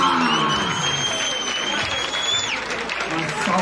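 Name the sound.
crowd applause at a rap battle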